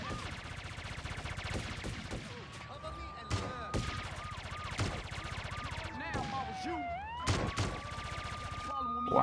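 Bursts of gunfire ring out repeatedly in GTA Underground free-roam combat, loud and close, layered over game music, tonal effects and ambient game noise.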